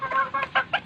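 Young gamefowl stag, a sweater, round head and kelso cross, gives four quick soft clucks in a rapid close burst.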